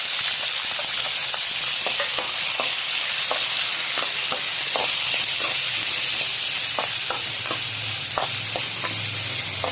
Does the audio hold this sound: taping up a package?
no